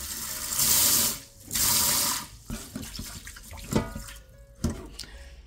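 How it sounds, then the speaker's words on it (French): Rice washed in water at a kitchen sink, with two bursts of running tap water followed by softer splashing, swishing and dripping as the grains are rinsed by hand, close and without talk. "D'abord, je vais laver le riz et ensuite."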